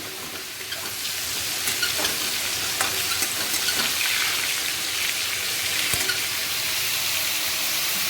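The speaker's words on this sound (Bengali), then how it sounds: "আর এই সাইডে পটল ভাজা হচ্ছে" Pointed gourd slices fry in oil with a dense, even, rain-like sizzle that holds steady throughout, with faint scattered pops.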